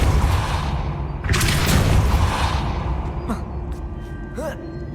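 Spell effects from the Hogwarts Legacy video game: a whooshing magical burst with a low boom, followed by sharper zaps and swishes, loud and near, with a voice speaking over parts of it.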